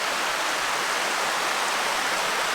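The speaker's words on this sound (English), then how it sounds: "The river is a-running." A river in Grand Teton backcountry rushes steadily beside a campsite near Bear Paw Lake, a close, even broadband roar of flowing water with no other sounds.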